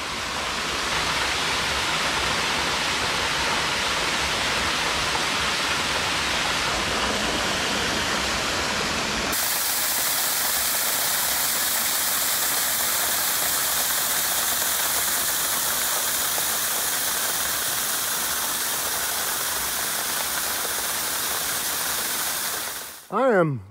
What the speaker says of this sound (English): This is Borden Creek here in the foreground.